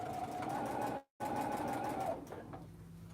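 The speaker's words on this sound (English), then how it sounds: "And this machine likes to sew fast too" A sewing machine runs fast, stitching vinyl snap top bags, a steady close mechanical whir that pauses briefly, resumes, then slows and stops near the end.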